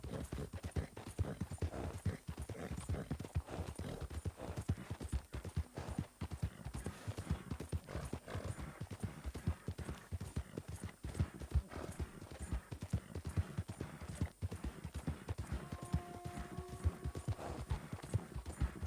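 Continuous, fairly quiet clip-clop of horse hooves trotting at a steady rhythm throughout, in the video game Red Dead Redemption 2.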